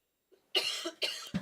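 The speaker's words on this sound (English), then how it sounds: "I've got a bit of a cough." A person coughs close up, giving two sharp, harsh bursts and then a shorter third one, alone in otherwise quiet surroundings.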